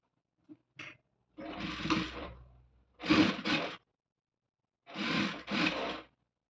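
Sewing machine stitching the neck of a readymade blouse, running in short separate bursts of whirring with pauses between them, close and alone.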